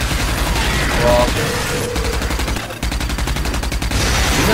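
Gunfire in the Rage shooter game, sustained loud rapid shooting with a brief dip midway, then resuming dense and steady.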